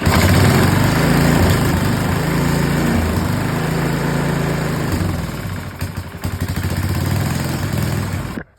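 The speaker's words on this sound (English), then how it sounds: "Doesn't seem to want to run unless the choke's on." An old Snapper I724 lawn mower engine runs on choke with a carburetor needing cleaning, a steady close rumble that holds for about five seconds, then stumbles and surges unevenly before cutting out at the end.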